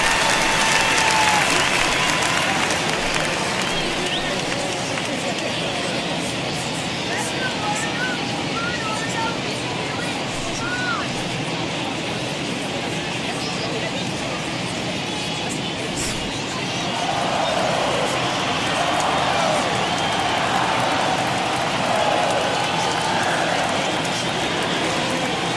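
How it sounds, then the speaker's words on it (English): Steady, dense crowd roar fills a baseball stadium in an MLB video game during a World Series Game 7 between the Phillies and Orioles, a continuous wash of murmur and applause with no clear breaks. "Well, the home crowd seems a little restless"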